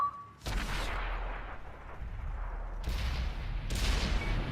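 Heavy tank cannon shots trade back and forth in a tank video game, with booming low-end blasts at the start and two more sharp reports later over a continuous rumbling battle background; no voices.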